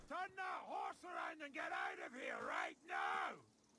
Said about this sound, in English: this guy is right next to you screaming